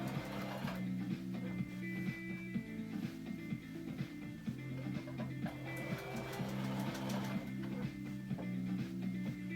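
A sewing machine runs steadily while stitching a winter camping quilt, its rapid needle chatter close and continuous with slight pauses and shifts in rhythm as the fabric is guided by hand, no talking over it.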